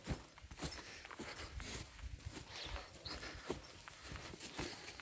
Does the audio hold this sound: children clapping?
no